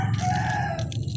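A backyard rooster crows loudly and close, one drawn-out call over the clucking of chickens nearby, with no talk.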